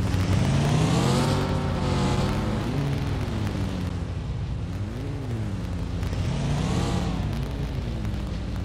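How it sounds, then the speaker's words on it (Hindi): A vehicle is driven in the video game PUBG/BGMI, its engine droning loudly and steadily, rising and falling in pitch as it revs and shifts. "अभी तो गाड़ी चला रहा है भैया वो तो"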